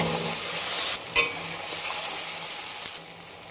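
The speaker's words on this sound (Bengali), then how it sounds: "এবার দিয়ে দেবো আদা রসুন।" Ginger and garlic dropped into hot oil with whole spices (cinnamon, star anise, mace, cardamom, cloves) for chicken kosha, a loud steady sizzle with a brief stirring clatter midway, close up.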